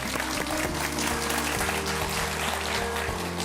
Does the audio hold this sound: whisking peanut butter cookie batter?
no